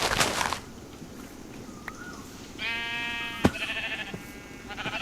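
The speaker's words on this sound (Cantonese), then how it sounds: "揾到一個 羊啊！" Sheep bleating in a survival video game, a few wavering bleats rising after a short quiet stretch, with other game noises and a sharp click between them. The bleats come through fairly clearly without talk over them.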